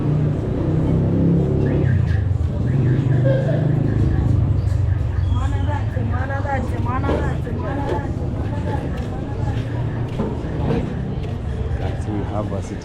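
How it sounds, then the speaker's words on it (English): A city council garbage truck collects rubbish on a busy Nairobi street, its engine rumbling steadily and fairly close beneath a constant background of crowd chatter and traffic. "So we have a city council truck here collecting garbage."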